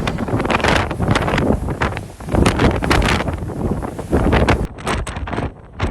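Strong gusts from Storm Darragh batter the microphone in a loud, continuous roar, surging and easing in waves, with wet rain noise mixed in.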